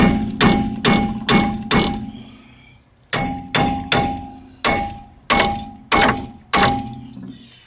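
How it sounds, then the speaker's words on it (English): A hammer strikes a seized Subaru Forester wheel hub in two rapid bursts of sharp, ringing clangs, about a dozen blows in all with a short pause between runs. "let's hit it a little bit"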